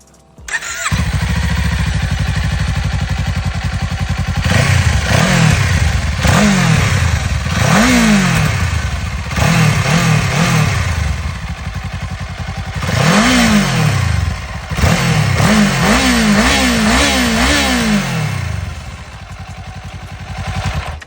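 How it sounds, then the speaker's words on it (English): Kawasaki Eliminator 500 motorcycle engine idling up close and revved repeatedly, with sharp, high-pitched throttle blips rising and falling in a series of bursts over a steady idle. "So as you can hear, it still has this classic high-pitched Kawasaki sound."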